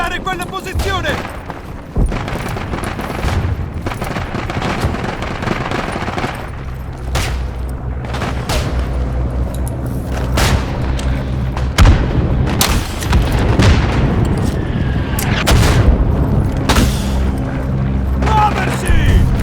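Artillery bombardment and gunfire in the video game Isonzo: repeated booms and bursts of shots, some near and loud, others distant, mixed with shouting voices in Italian.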